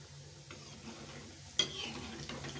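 Spinach pakoras frying in hot oil over a medium flame, a quiet steady sizzle broken by a sharp utensil knock partway through and occasional light stirring, close with no voices.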